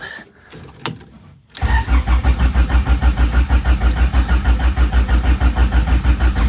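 A car engine being cranked in winter without catching: a few faint clicks, then loud, even, rhythmic starter churning that pulses steadily for several seconds without settling into a running idle.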